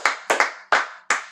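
Five sharp hand claps, a single person clapping at close range in a quick, slightly uneven rhythm, each clap ringing briefly in a room.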